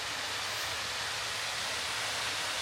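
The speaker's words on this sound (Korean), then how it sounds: "물소리 나는데?" Water flowing at the small Yongchu waterfall in winter, with the falls partly frozen and little water running; a steady, close, hissing rush with no pauses and no voices.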